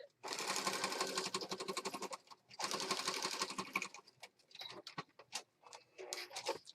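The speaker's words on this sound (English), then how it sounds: "let me stitch that right across here" A sewing machine stitches fabric onto a junk journal page in two long steady runs of rapid mechanical chatter, then stops and gives way to short stop-start bursts and light handling clicks.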